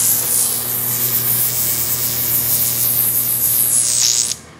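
Steady broadband hiss of shielding gas flowing through an atomic hydrogen welding torch, loud and continuous over a low electrical hum, cutting off abruptly near the end.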